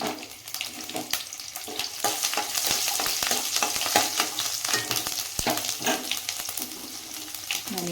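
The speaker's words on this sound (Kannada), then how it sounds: "ಈ ಥರ ಬೆಳ್ಳುಳ್ಳಿ ಸುಲಿದಿರೋದನ್ನು ಹಾಕೋಣ." Peeled garlic sizzles steadily in hot oil for a healthy bitter gourd stir-fry, a dense, continuous crackle with scattered sharp pops and occasional scraping stirs, close and fairly loud throughout.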